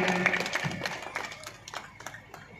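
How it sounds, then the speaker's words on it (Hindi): An audience claps in scattered, uneven applause at a stage event, with a voice over it and the clapping tapering off. "बिजन बिजन सारो जोरदार ताली"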